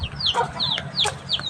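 Backyard chickens cluck busily at feeding time, short rising squawks and clucks repeating every few tenths of a second, close and fairly loud.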